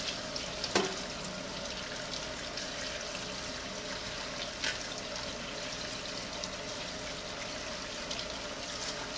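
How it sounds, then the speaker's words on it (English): Filtered tap water runs steadily over table grapes being rinsed, a constant soft splashing stream with a few small clicks, close by and without talking. "Rinse them first with running water."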